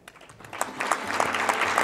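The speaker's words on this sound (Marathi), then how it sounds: "टाळ्या कमी पडू द्यायच्या नाही आहेत ह्या सत्रासाठी" Audience clapping at an honouring ceremony, starting faint and swelling into steady, moderately loud applause from a roomful of people.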